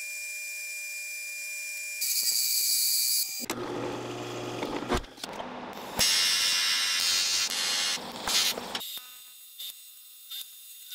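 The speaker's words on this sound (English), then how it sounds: "we're just gonna drill out some round stock on the lathe" Machine whine of a lathe drilling out round stock in a workshop, with shifting high tonal whirs and buzzing bursts that start, stop and change pitch over several seconds, close and without talk.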